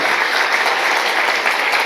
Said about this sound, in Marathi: टाळ्या वाजून प्रभूला धन्यवाद देऊया जोरदार